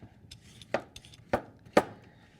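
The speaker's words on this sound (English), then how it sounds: "I'm chopping up one zucchini" A knife chops a single zucchini on a cutting board in a kitchen. Three sharp, separate chops land about half a second apart, with lighter taps between them in a quiet room.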